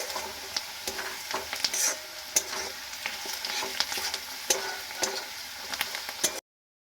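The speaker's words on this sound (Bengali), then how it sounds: "পেঁয়াজটা লাল করে ভাজলে কিন্তু এর টেস্টটা খুব সুন্দর আসে" Onions sizzling and frying in a pan for a Bengali doi egg curry, a steady close crackle with the occasional sharp stir or clink of a spatula, with no talking.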